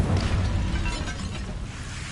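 A fire spell bursts out in a Harry Potter video game, a dense, roaring whoosh of flame that fills the moment loud and close, broad and steady with no voices over it.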